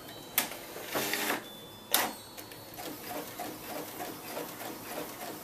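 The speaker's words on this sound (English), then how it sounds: "And then it'll print to the printer." A Brother office printer running a print job, giving a few sharp mechanical clunks and whirring bursts of paper feed, followed by a steady low machine hum, close by and with no talking.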